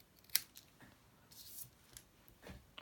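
Scissors snip the end off a piece of card for a handmade snowflake Christmas card, a sharp close cut followed by several quieter snips and rustles, faint and intimate.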